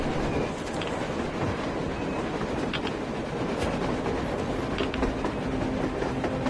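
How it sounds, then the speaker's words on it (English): A train in the video game Metro Exodus rumbles past with rhythmic clickety-clack of wheels on rails and occasional metallic squeals, loud and continuous throughout. "A train! A damn train on the surface!"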